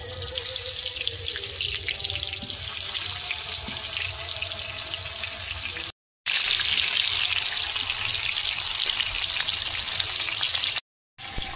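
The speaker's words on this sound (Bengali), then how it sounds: "কড়াতে সর্ষের তেল দিয়ে দিচ্ছি, আলু ভাজবো।" Potatoes frying in hot mustard oil in a wok, a continuous close sizzle and hiss that runs on with two brief silent gaps, no talking.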